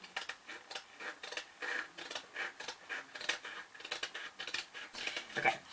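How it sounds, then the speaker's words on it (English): Scissors snip repeatedly through the edge of burlap fabric, a close, steady series of crisp rasping cuts in a quiet room with no talking. "Cut away this little green edge."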